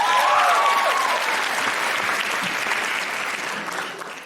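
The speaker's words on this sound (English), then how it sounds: "Big round of applause for Brenton." Audience applause for a performer named Brenton at a live show in Canberra, a dense, steady burst of clapping that fades slightly toward the end, with a brief whoop near the start.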